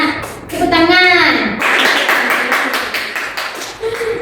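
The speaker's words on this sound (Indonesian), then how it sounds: "Tepuk tangan." Children in a classroom clap their hands together in a brief burst of sharp, rapid claps that follows a teacher's voice, with speech at the start and a bit of talk returning at the end.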